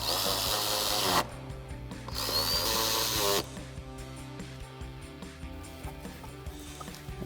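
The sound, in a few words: 8mm socket tightening down screws on ignition part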